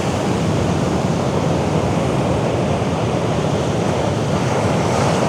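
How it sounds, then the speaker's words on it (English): Strong beach wind buffets the microphones in a constant loud roar, with surf noise blended into the steady broadband rush and no voices. "Hopefully these mics are picking up in the wind."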